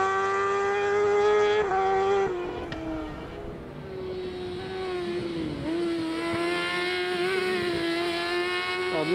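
Predator XC crosscar racing around a circuit on a timed lap, its engine holding a steady high-pitched howl with slight rises and dips in revs, loud and continuous without speech.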